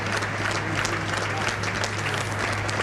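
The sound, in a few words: long applause as guests leave a funeral church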